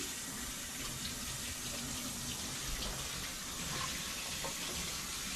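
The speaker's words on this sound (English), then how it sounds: "Let me wash my hands here, people" Hands are washed under a running kitchen tap, a steady close hiss of flowing water splashing into the sink, continuous and alone with no talking.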